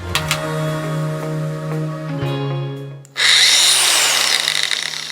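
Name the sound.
angle grinder running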